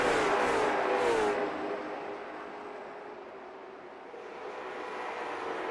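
Race car engines roar close by and then fade as the cars pass, leaving a lingering distant engine drone with no talking.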